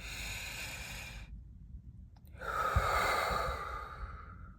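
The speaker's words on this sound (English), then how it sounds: "Let me do some deep breaths." Deep, slow human breathing close up: one long airy exhale, a short pause, then a fuller, louder inhale-exhale with a soft nasal snort, alone without speech.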